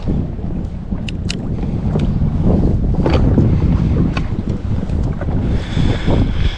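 Fierce wind buffets the microphone on a fishing boat out on open water, a loud, constant roar with gusting swells and occasional knocks and clatter.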